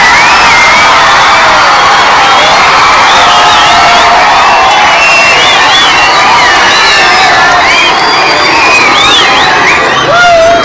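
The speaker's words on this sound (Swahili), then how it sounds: "Hebu tupigie principal na chairman wa board na wazazi wetu makofi." A loud crowd at a school gathering claps, cheers and whoops for the principal, board chairman and parents, with shrill children's voices and whistles sustained throughout.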